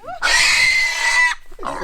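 A newly arrived backyard pig gives one long, loud, shrill squeal right up close, then a shorter squeal and a grunt at the end.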